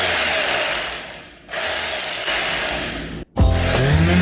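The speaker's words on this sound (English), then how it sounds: "I tried my sander." Close, loud and steady buzzing drone from an electric sander pressed against an espresso shaker, cutting out briefly twice before starting up again with a rising whine.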